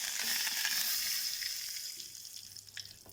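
Asafoetida and curry leaves crackling in hot oil for a tempering, a loud close sizzle that gradually settles, with faint spits and clicks toward the end.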